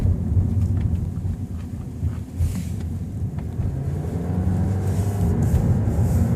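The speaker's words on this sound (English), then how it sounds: "Just a loud, hollow sounding engine." A 2015 Dodge Dart's engine gives a steady, hollow drone with low rumble while driving, continuous and fairly loud, with wind noise over it and no talking.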